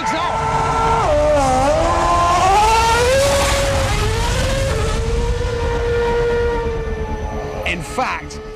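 A Formula 1 car accelerates hard, its engine note climbing through rising, stepped gear changes as a loud, continuous roar that fades slightly toward the end.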